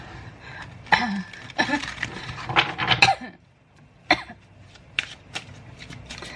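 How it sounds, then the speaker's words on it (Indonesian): Several close, rough coughs in an uneven cluster, then a few sharper isolated bursts trailing off amid quiet. "Maaf ya, aku batuk."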